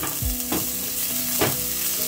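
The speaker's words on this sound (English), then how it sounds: "Once my oil is hot enough, I'll go in with my onions and my garlic." Onions and garlic frying in hot oil, a loud, steady sizzle with a couple of stirring scrapes as the pan is worked.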